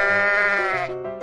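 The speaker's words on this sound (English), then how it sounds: "sheep" A sheep gives a single drawn-out bleat, a wavering nasal call lasting just over a second that fades toward the end, clear and alone.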